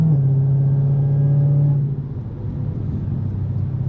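A supercharged 6.2-liter V8 in a 2023 Dodge Challenger Black Ghost idles with a loud, deep, steady rumble close by, then the note drops and settles into a lower, slightly uneven burble.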